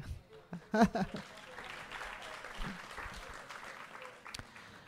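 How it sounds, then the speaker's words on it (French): Audience applause at an evening festival event, moderate and somewhat sparse, with voices and chatter mixed in over the clapping throughout. "On vous applaudit."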